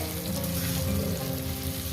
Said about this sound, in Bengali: আজকে কোনো কিছুই পাইনি তাই করলা ভাজা আর ঝিঙে দিয়ে ডাল করছি